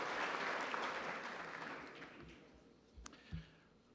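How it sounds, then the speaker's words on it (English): Applause from a crowd, clapping loudly at first and gradually thinning out, with a couple of scattered thumps near the end. "A round of applause for our great dean here."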